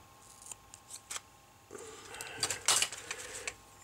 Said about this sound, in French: je prends un petit ciseau